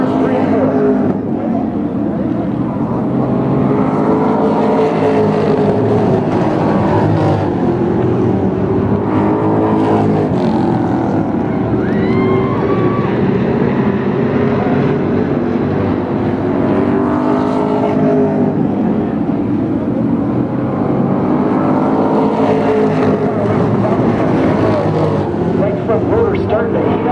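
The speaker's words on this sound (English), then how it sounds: "15 laps into this 25-lap feature race" Thunder cars race in a 25-lap feature at Flamboro Speedway, a dense roar of several engines rising and falling as they circle the track, with a commentator talking over the racing throughout.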